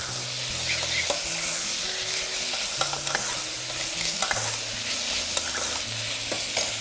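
Onion and bacon frying in a pan, a continuous bright sizzle close up, punctuated by frequent clinks and scrapes of stirring, with no voices.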